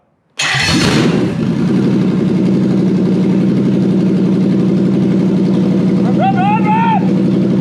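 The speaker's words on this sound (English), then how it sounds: "And we'll apply the starter motor." A starter motor cranks briefly before the engine catches and settles into a steady, loud idle, with a short voice heard near the end over the running engine.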